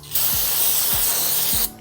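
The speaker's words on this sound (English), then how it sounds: "I'm just gonna take a couple of shop towels and spray some brake clean" Aerosol brake cleaner sprays in one steady, loud hiss onto shop towels in a garage during a BMW E82 135i oil pan gasket job. The burst runs well over a second and stops cleanly, with faint low mechanical ticks beneath it.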